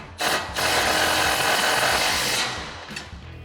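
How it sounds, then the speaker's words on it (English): A 16mm socket on an impact wrench tightens a through bolt joining a support bracket to the main bracket of Jeep Gladiator JT running boards, a loud continuous whirring burst lasting about two seconds with a brief short blip after. "We've got a 16mm wrench and a 16mm socket"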